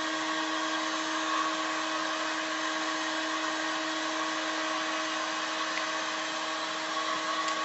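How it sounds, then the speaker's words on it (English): A 200 watt, 24 volt, four-pole DC motor on a flywheel rig runs with a steady, close electric whine and hum, unchanging and uninterrupted with no voices. "DC motor that we fitted a couple of days ago. 200 watts, 24 volt, 4 pole."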